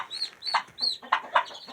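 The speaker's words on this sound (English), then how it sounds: "They start squawking like that." Chickens cluck and squawk close by in a rapid run of short, rising calls, with no talk over them.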